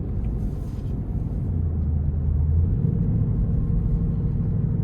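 A 2026 Ford Mustang GT Premium in sport mode rumbles with a deep, steady engine drone from inside the cabin, swelling slightly midway and holding loud and continuous.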